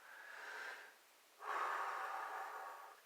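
Two slow, deep breaths, close and quiet, with a brief pause between the long inhale and exhale, and no talking.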